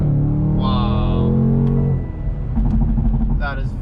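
BMW M850i xDrive exhaust under acceleration, a deep droning engine tone that rises in pitch then drops at a shift, loud and close inside the cabin with a few brief sharp tones.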